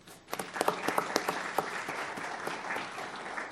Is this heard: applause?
yes